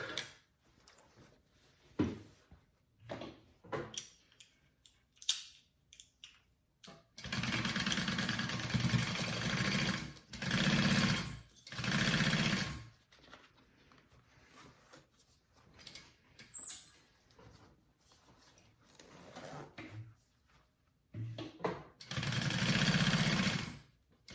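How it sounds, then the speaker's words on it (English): Sewing machine stitching a quarter-inch seam on a fabric slouchy hobo bag, running in several steady bursts of a few seconds each, separated by quiet pauses with faint handling noises. "1/4 inch seam allowance and sew along that"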